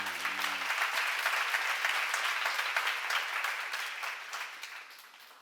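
A church congregation at a worship seminar claps in thanks to God, a dense, even round of applause lasting several seconds at moderate level, slowly easing off near the end.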